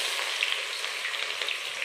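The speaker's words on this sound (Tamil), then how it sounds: "பட்டை வகைகள் பொரிஞ்சதும் வெங்காயத்தை சேர்த்துக்கலாம்." Onions fry in hot oil with whole spices for mutton biryani, making a steady close sizzle with soft crackles and no voices.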